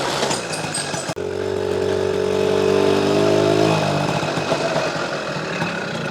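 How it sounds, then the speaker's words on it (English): An Aston Martin car drives past with a droning engine note that swells for a few seconds and then fades away, over a steady rumble of another nearby engine. "There might be an Aston Martin coming past in a second."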